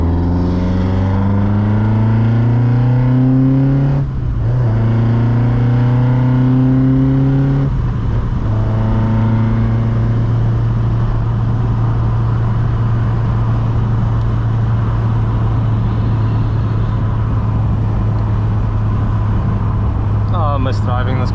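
A VW Golf Mk2 16V GTI engine while driving, a loud steady drone climbing in pitch through the gears with shifts early on, then holding a constant cruising hum; some faint voice-like noise may sit under it.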